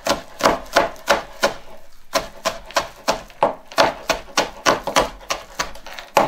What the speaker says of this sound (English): Again, rough chop.